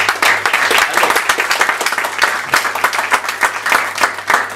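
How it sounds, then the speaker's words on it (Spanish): A seated audience at a consulate's public accountability event applauds steadily and fairly loudly, a dense, continuous patter of clapping hands. "nuestra estimadísima Lucy Farías, un aplauso por favor."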